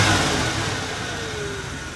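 The engine of Harry the tow truck, fitted with a Carter carburetor, runs steadily at close range with a rough, rumbling tone and a slight rise in revs.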